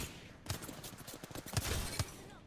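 A rapid burst of gunfire in an Apex Legends match, with a cluster of sharp cracks and several louder shots standing out, heard at a moderate level.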